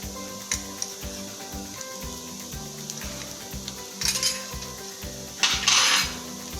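Pav bhaji masala is stirred into vegetables in a hot pan: a steady sizzle runs under rhythmic, repeated scraping and clanking of the spoon against the metal pan.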